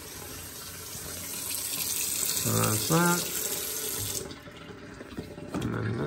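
Kitchen faucet running cold water only into a sink, a steady close splash filling most of the clip and easing toward the end, with brief speech over it.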